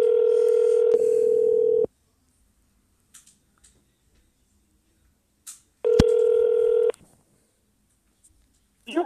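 Two ringback tones of a phone call sound, each about a second long, separated by quiet with small clicks, the second ring starting around six seconds in.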